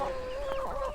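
A homestead chicken clucks nearby in a short run of throaty, nasal calls that rise and fall, close and clear over a quiet yard with no talking.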